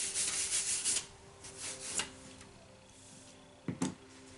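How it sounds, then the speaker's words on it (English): A pencil eraser scrubs out pencil lines on paper in quick, close back-and-forth rubbing bursts, busy at first, then scattered with pauses, and two short final strokes near the end. "take my eraser and erase these little lines of symmetry that I had."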